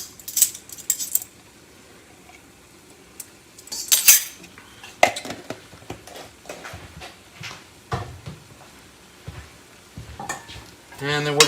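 Bell pepper, garlic and onions cook in a pan with a soft sizzle under scattered clinks and scrapes of a utensil stirring against the metal, close and intermittent.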